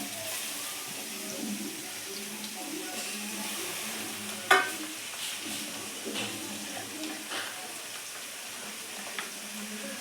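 Tomatoes tip into onions frying in a pan and set off a steady sizzle with gentle stirring. A single sharp clack of the utensil cuts through midway.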